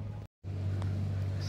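A tractor passes close by on Bhogwe beach on the Konkan coast, a steady low engine drone that holds at an even loudness after a brief break in the sound.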